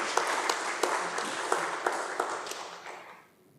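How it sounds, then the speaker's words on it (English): Audience applause at a talk on integral ecology, a full burst of clapping with a few sharper claps standing out, fading away over the last second. "He needs an applause too."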